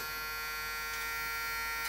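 A Braun 340 Series 3 electric shaver running with no load, a steady close buzzing hum that holds constant throughout, with no speech.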